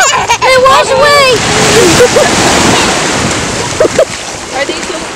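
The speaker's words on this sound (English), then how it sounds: "The waves are strong." Strong ocean waves break on a beach in a continuous, loud roar of surf and wash, with a voice and brief chatter rising over the noise at the start.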